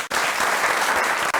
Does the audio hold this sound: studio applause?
yes